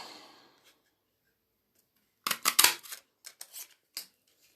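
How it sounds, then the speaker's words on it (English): Scissors snipping through paper to cut out an umbrella shape for a pop-up card, a quick cluster of sharp close cuts followed by a few separate single snips, with near silence between. "I'm going to cut out a umbrella"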